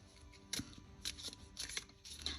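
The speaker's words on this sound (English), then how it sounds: "Let's shuffle." Gold-detailed Botticelli tarot cards shuffled by hand, soft close riffling and slapping in about five brief bursts with quiet gaps, no talking.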